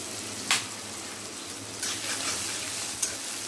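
Chopped onion and crushed garlic sauté in a pan with a soft, steady sizzle, broken by a few short clinks of stirring.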